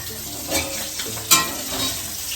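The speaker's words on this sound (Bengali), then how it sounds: "মাছ ভাজা চলছে, মাছ ভাজা চলছে" Fish sizzling and frying in a hot wok, a steady close crackle with a few stirring scrapes and brief louder bursts, no talking.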